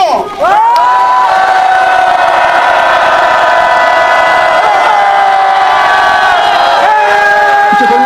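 A large crowd at a Korean political rally for lawmaker Lee Seok-ki lets out a long, loud, sustained roar of shouting and cheering, close and unbroken after a brief dip at the start.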